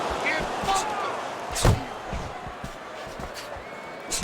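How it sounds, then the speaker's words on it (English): Punches landing in a Fight Night Champion bout between Tyson Fury and Oleksandr Usyk: one heavy, sharp smack stands out midway, with a few lighter taps around it under a steady crowd murmur. "Little head knocking with that right hand."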